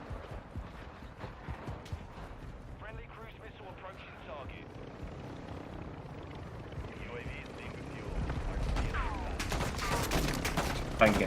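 Rapid bursts of gunfire cut down parachuters in Call of Duty MW2, crackling shots under steady mechanical and helicopter-like rumble, growing louder and denser toward the end.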